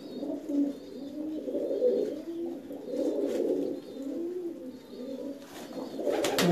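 Pigeons in a large loft in Pakistan coo continuously in soft, overlapping rolling phrases, with faint chirps and a brief flutter of wings, fairly close and without talk.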